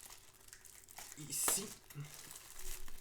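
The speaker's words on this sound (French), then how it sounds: "on va juste retirer le papier" Paper crinkles and tears as a protective sheet is peeled off a new gaming headset up close, with a brief sharp rip in the middle and a word spoken.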